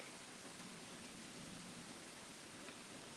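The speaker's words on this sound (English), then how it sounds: "It is raining out here. It's pretty hard." Heavy rain falls steadily outside a balcony, a dense, even hiss of drops with no breaks, moderately loud and continuous throughout, with no voices.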